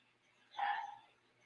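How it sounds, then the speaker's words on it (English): A puppy gives a single short bark or yip, faint and somewhat distant, in an otherwise quiet background. "Y'all hear my puppy in the background?"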